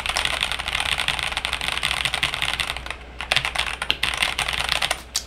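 Rapid, continuous typing on an AJAZZ AK873 mechanical keyboard during a speed test, a dense stream of close, loud key clacks that thins into more distinct strokes near the end.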